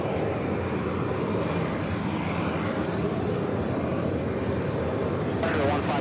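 Aircraft engines roar steadily at JFK Airport, a broad continuous rumble of planes taxiing and passing, with speech faintly audible alongside.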